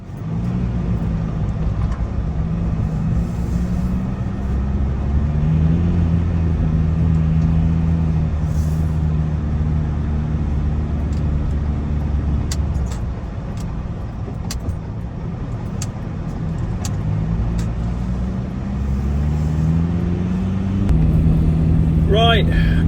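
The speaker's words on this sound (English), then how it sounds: "So I am driving over to Rovaniemi" A camper van drives along a road in extreme Arctic cold between Abisko and Rovaniemi, its engine a steady low drone with tyre and road rumble throughout, the pitch shifting as it changes speed, plus a few faint rattles in the cabin.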